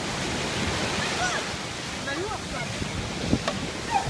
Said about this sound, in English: High surf.